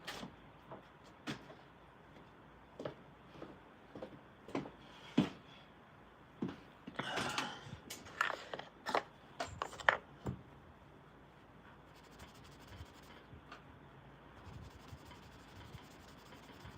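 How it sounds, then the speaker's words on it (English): A polishing cloth buffs a piece of lumber in irregular rubbing strokes, some quick and some drawn out, with soft scuffs and occasional knocks over a quiet room. "We're going to buff them up."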